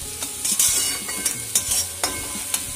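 Green chillies sizzle in oil in a wok while being stirred, with steady frying hiss and repeated scraping strokes of the spoon against the pan.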